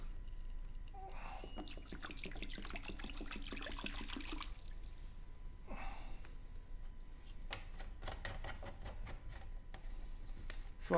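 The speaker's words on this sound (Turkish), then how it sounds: "Por çözümüzü, kireç çözümüzü döküyoruz." Limescale remover solution is poured into a container, giving a run of watery drips and trickling splashes in close bursts with quiet gaps between them and no voices.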